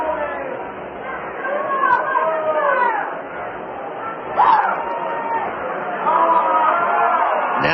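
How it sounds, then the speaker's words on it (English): A restless baseball crowd murmurs and chatters in the stands at a Dayton Dragons minor-league game against the Cedar Rapids Kernels, a dense, steady wash of many voices that swells at moments, with a few calls rising above it. "And the crowd grows restless,"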